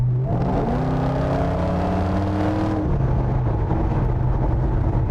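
A Mercedes-Benz 6.3 engine pulls hard under acceleration, its rising tone climbing smoothly through a long gear before dropping into a steady cruising drone, loud and close with no talking.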